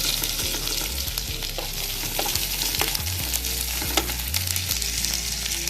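Garlic and green chili frying in a pan while being browned for a Bengali fish and vegetable dish, a steady close sizzle with occasional scrapes and stirring knocks, no talking.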